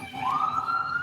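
A rising siren wail, heard from outside through an open window at moderate distance, briefly climbing and holding its pitch.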